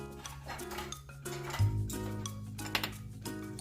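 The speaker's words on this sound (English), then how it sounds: "Stir them on a pan with no oil at all" Dry anchovies stirred in a bare pan with no oil, giving faint clinks and scrapes of utensil on metal, a few sharper knocks among quiet, close handling sounds.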